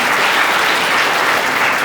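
Audience applause in a Tamil motivational talk hall, a loud, continuous wash of many hands clapping together without a break.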